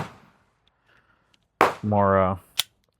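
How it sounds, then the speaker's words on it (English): A sharp gunshot fired at a target, followed by a short voiced sound and a second crisp crack, close and loud against near silence. "So I'm gonna shoot for that top one up there."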